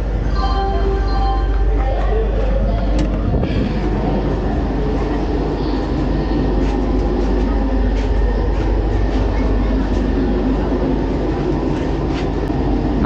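Inside an AC 3-tier coach of the Vasco da Gama–Velankanni Express, a steady, loud rumble of wheels and carriage noise fills the air. A brief clatter passes early on, and a voice speaks faintly beneath the constant roar.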